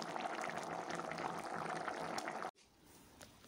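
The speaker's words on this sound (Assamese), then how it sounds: "নমাব পৰা হৈছে আৰু উতলি আছে" Fish curry bubbles steadily in a pot on the stove, a close, dense simmering hiss that runs continuously, then cuts off abruptly to near quiet with only faint background remaining.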